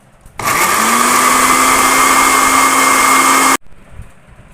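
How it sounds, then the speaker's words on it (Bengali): Electric blender whirring through small mango pieces in a jar, a loud close motor drone that kicks in abruptly, holds steady for about three seconds, then cuts off sharply, with no talk. "ব্লেন্ড করে নেব।"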